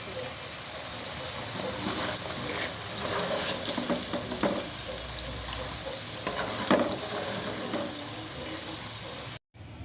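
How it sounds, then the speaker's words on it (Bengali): Potatoes frying in oil in a pan, heard as a steady hiss and crackle with occasional scraping of a utensil, close and moderately quiet, with no voices. "আলু ভাজা হয়ে গিয়েছে এখন আমি আলুও নামিয়ে নিচ্ছি"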